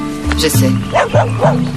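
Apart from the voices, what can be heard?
dog barking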